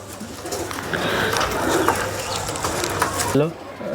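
Bangladeshi highflyer pigeons coo in low rolling calls close by, with people talking over them throughout.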